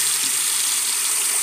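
Water drains down an unclogged sink, a steady rushing gush with a bright hiss, loud and continuous, alone with no voices.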